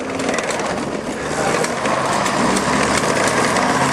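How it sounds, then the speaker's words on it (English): A loud, close heavy engine of a 1978 combat engineer tractor roars steadily with rough grinding and crunching noise throughout, no voices, at a steam fair in Dorset. "This is a 1978 combat engineer tractor."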